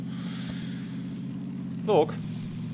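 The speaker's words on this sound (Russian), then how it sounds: "Кажется, или шум машины параллельно идет?" Steady low engine drone of a car in PUBG Battlegrounds, a constant hum running throughout, with someone speaking briefly over it near the end.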